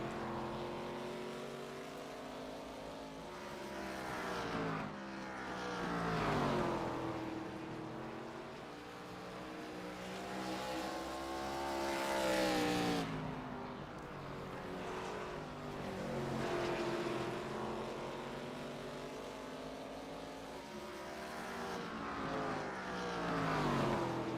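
ARCA Series race cars run on track near pit road late in a race, engines droning steadily with rising and falling pitch sweeps as cars pass, no talk.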